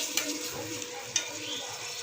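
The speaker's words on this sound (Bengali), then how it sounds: "এখানে জিরার গুঁড়া দিয়ে দিচ্ছি। ভালো করে কষে নেব।" Cumin powder and spice masala sautéing in a pan, a steady low sizzle with scraping stir strokes and a couple of sharp spatula clicks, close and alone.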